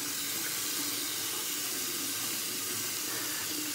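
Tap water runs steadily from a faucet into a sink to wet the face before shaving with Noble Otter soap, a continuous even rush with no voices.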